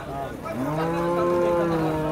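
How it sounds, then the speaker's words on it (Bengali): A very large cow at the Hozrotpur cattle market gives one long, loud, sustained moo close by, with the hubbub of the market faintly behind it. "খুব বড় সাইজের একটা গরু আসতেছে হযরতপুর"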